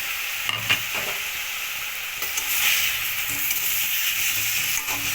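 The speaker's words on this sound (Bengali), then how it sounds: "এবার আমি যে আমলকিগুলোকে সিদ্ধ করে রেখেছিলাম আমি এর মধ্যে এবার এগুলোকে দিয়ে দেবো।" Boiled amla being tipped into a pan of sugar syrup for murabba, giving a steady bright sizzle and bubbling with a few stirring scrapes and clinks, close and continuous, with no one talking.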